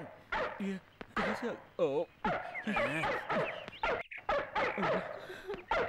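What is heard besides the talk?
dog barking on tape recorder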